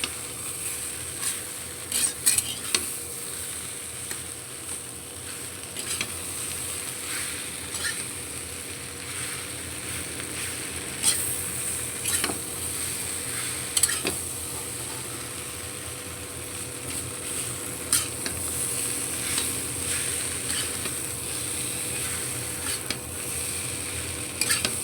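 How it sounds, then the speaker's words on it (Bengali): Potatoes frying in oil with a steady, fairly quiet sizzle throughout, broken by irregular scraping and clinking strokes of a spatula stirring against the pan, no voices. "ওই তেলটি আমি আলুগুলো ভেজে নিব।"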